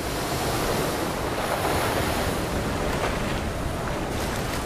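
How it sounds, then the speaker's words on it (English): Storm-force winds and crashing waves batter the open polar sea near fresh sea ice, a loud, continuous roar of surf and gusting wind with no pauses. "Storm force winds and waves then batter the fresh sea ice."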